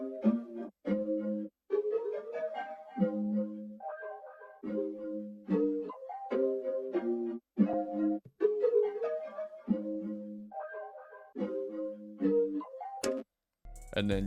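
Sample loop built from a chopped pluck melody over sustained pads, short plucked notes repeating in a steady pattern, moderately loud and alone with no voices, ending in a brief burst of noise.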